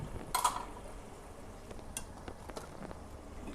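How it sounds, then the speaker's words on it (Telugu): Rice is spooned into a pot of curry for dum biryani: a sharp metal scrape at the start, then soft scattered taps and light stirring over a steady background hum. "ఇప్పుడు దీంట్లో మనం కొంచెం రైస్ వేసుకుందాం."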